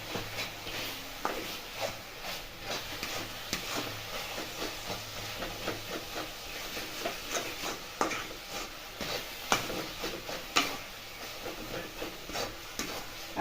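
Carrot halwa is stirred in a pan over a constant steamy hiss and soft sizzle, with scraping and gentle knocks from the spoon rising and falling throughout.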